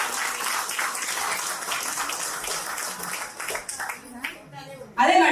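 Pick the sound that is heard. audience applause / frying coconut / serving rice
audience applause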